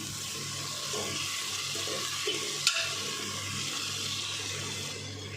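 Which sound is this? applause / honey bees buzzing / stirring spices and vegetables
stirring spices and vegetables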